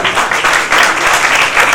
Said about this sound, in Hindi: शाह साहब के लिए ज़ोरदार तालियां होना चाहिए हर तरफ।